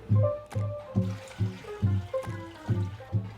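Warm water is poured into a blender holding semolina, flour, sugar, yeast and salt, making a close, gurgling, splashing pour with rhythmic glugs over about three seconds.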